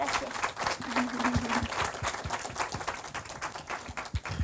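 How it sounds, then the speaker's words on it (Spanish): Attendees at a banking seminar on risk and uncertainty applaud a doctor at the close of the day's event, with sharp individual claps inside a sustained round of applause and murmuring from the room. "le damos un aplauso a la doctora"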